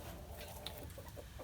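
White-crested Polish roosters, standard breed, make soft low clucks and brief calls, faint and close in a quiet farmyard, with no talk.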